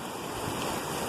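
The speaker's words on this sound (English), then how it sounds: "we got some bigger waves coming too, man" Big ocean waves breaking and crashing on the shore at CasaBlanca, Venezuela, a steady loud roar of surf with wind noise across the microphone and no voices.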